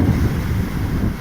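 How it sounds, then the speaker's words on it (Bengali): Strong gusty wind at Marine Drive in Mumbai buffets the microphone with a loud, continuous low rumble, while rough sea waves churn faintly beneath it, with no voices. "বাতাস এত হচ্ছে যে যে বলা যাচ্ছে না, প্রচণ্ড বাতাস হচ্ছে"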